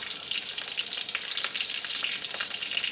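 Whole cumin, bay leaves and two slit green chillies fry in oil in a kadai, making a bright, crackling sizzle that holds steady and close, with small pops scattered through it.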